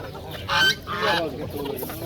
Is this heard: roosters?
yes